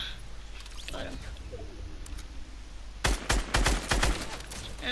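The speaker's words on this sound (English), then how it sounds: "And then I realized somebody else was shooting at me." Video game gunfire in Fortnite Battle Royale, a rapid burst of several loud cracking shots packed into about two seconds near the end, after a quieter stretch of in-game ambience and faint clicks, with a voice talking at times.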